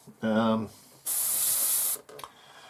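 An airbrush sprays aluminium acrylic paint, thinned half and half with Tamiya acrylic, onto a 1/72 scale Airfix Hawker Hurricane model, a steady close hiss lasting about a second, with a brief voice just before.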